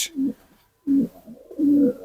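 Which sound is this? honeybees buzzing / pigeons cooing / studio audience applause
pigeons cooing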